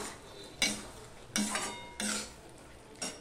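Four separate metal spoon scrapes against a cooking pot, stirring lentils and flat beans, each stroke a short clattering swish with quiet pauses between.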